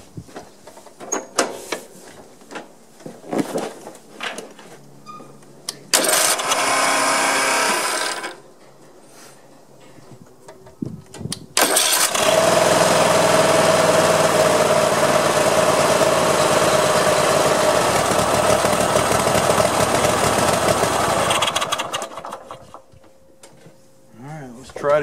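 A zero-turn mower engine cranks in short bursts, then starts and runs at a steady idle for a long stretch before cutting off, with someone talking briefly near the start.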